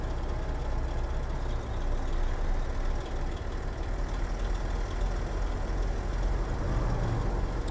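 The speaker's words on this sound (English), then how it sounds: "Man, the engine sounds great in this truck." Kenworth W990 truck engine in American Truck Simulator, a low, steady diesel rumble with a constant broadband drone and no change in pitch, sustained throughout with no talking.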